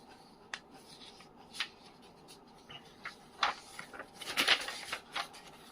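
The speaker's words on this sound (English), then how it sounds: "Just I will fold this paper because" A sheet of paper is folded and handled, producing scattered crisp rustles and creases, mostly quiet but with a louder cluster of crackling toward the end.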